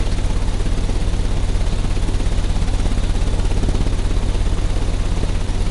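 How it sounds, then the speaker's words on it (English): An engine runs at a steady, loud, continuous drone with a rapid pulsing throb, unchanging throughout, with no talk. "The engine has started."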